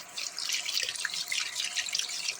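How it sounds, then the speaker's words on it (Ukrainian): Boiled mushrooms are rinsed under running tap water in a colander, a steady, close hiss of water splashing with no talk. "І тут ще буду їх промивати і проточною водою"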